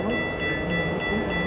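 A steady rail rumble with high sustained whines comes from a Metra Milwaukee North train pulling into a snowy station, a brief continuous stretch without clear talk.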